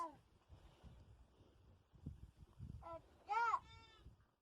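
A goat on a farm gives a loud bleat near the end, with a second quieter bleat right after, over soft outdoor background noise and faint movement.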